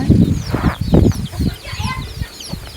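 Chickens clucking close by in short, repeated bursts, with a rooster-like call and some wing flapping amid the flock.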